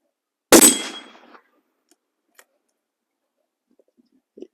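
A single sharp .308 caliber rifle shot cracks loudly against a Russian bulletproof plate, followed by a short decaying ring and a few faint clicks afterward.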